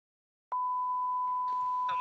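A single steady electronic edit beep tone cuts in after silence and holds continuously, loud and clear, with faint noises beneath it near the end.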